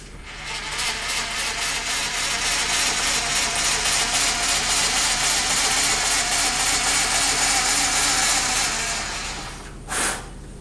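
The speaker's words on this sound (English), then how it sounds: "Crank our Z out. Shut the machine off." Milling machine Z axis being cranked out, a continuous close ratcheting, clicking whir that runs steadily for several seconds, then winds down as the machine is switched off, with a brief clunk near the end.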